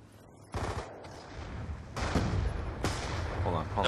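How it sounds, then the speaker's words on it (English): Black Ops 2 gunfire comes in several quick bursts, fairly faint and somewhat distant, over a busy game background with scattered chatter from players. "I think they're shooting our stuff down"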